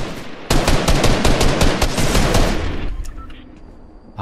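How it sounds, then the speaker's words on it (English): Rapid automatic gunfire in the Fortnite video game, a dense burst of loud repeated shots lasting a couple of seconds, then fading into quieter game ambience. "Oh, I hear more shooting."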